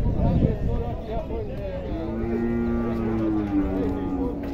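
Cow at a cattle fair giving a drawn-out low moo in the second half, close and clear, with people chatting and background crowd noise throughout.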